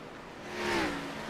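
Xfinity race car at Richmond, the No. 44 car heard from a roof-mounted camera as the driver stays on the throttle: a steady engine whir that swells slightly toward the middle, moderately loud and continuous with no talk.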